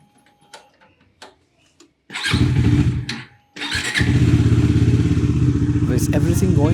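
Motorcycle engine cranking and catching, a few clicks and clunks first, then a short burst that dies, then firing up again into a loud, steady, close idle.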